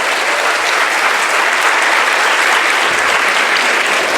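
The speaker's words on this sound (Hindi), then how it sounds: "ये देखो तालियां बज रही हैं इतनी, एक बार जोर से अफशद के लिए तालियां बजनी चाहिए।" Loud, dense applause from an audience at a Rotary Club and private school association gathering, clapping for Afshad, steady and sustained throughout with no voices breaking through.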